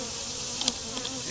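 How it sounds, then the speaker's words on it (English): Honey bees buzz around an open hive during a beekeeper's inspection, a soft steady drone with one brief louder buzz as a bee passes close to the microphone. "I'm going to squash this big bee here."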